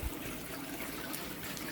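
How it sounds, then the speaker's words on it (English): Water trickles and runs out of a small hole into a fish pond, a steady, moderately faint splashing flow that continues evenly throughout with no talking. "now the water's coming out that little hole"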